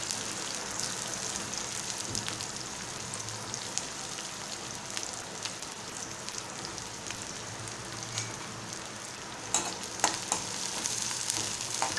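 Finely chopped onion frying in hot oil for a tempering, a steady dense sizzle with occasional stirring clicks, close and alone with no talk.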